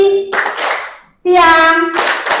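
In a classroom clapping game, a group of pupils shouts a call word in unison and answers with sharp, simultaneous claps, the loud chanted voices alternating with brief bursts of clapping close by.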